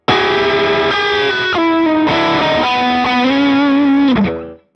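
An electric guitar runs through a Line 6 Helix modeler with the amp sag turned all the way up for a bluesy overdriven tone, playing loud sustained notes and bends that ring over about four seconds before cutting off.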